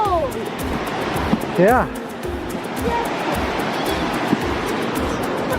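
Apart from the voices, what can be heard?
river flowing under a bridge in Olympic National Park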